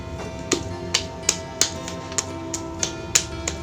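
Wet clay for pottery is patted by hand in sharp, evenly spaced slaps, about one every half second, close and clear over a quiet background.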